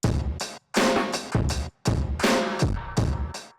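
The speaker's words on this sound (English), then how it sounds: "the saturation channel sounds like this" Crunchy, distorted drum hits pound out a steady pattern in loud bursts separated by brief gaps, saturated and gritty, with no voices.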